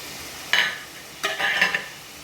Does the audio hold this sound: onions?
yes